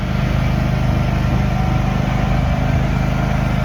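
A John Deere lawn tractor engine runs loud and close at a steady, buzzing pitch without pause.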